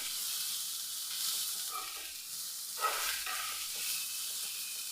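Steady, fairly quiet sizzle of chopped green chillies sautéed with a pinch of salt in a pan, with a couple of brief stirring scrapes partway through.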